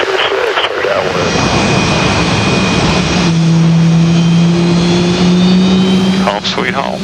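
A Blue Angels F-18 jet roars loudly and continuously close overhead, a broad thundering rush with a rising engine whine, while radio chatter runs underneath.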